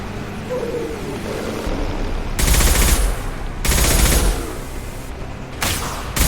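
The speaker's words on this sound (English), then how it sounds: "Firing a high-impact shot!" Gunfire in Mass Effect 2, with loud, sharp bursts of shots in separate volleys, each a harsh blast standing out over a rumbling battle backdrop.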